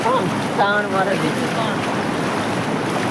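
Floodwater rushes strongly during heavy monsoon rain in Mahuva, giving a steady, close, noisy roar. A voice is heard briefly at the start, and the water keeps rushing after it.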